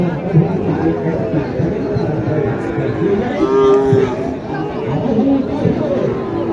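Cattle at a Shahiwal cattle market in Naogaon, lowing now and then amid a dense hubbub of crowd chatter, with voices talking close by throughout.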